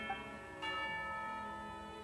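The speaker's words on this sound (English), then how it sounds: "You hear the sound of a bell." A bell rings out signaling tea time in the video game Genshin Impact, a single resonant chime that lingers and slowly decays with sustained ringing overtones.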